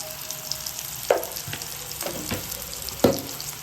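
Potatoes frying in oil in a pan for a tomato potato fry, a steady soft sizzle with a few sharper stirring clatters of the spatula against the pan, close and alone with no talk.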